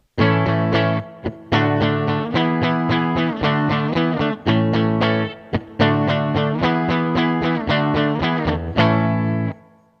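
Distorted electric guitar plays a choppy rock riff of quick chords and muted notes, with a couple of brief pauses, loud and upfront.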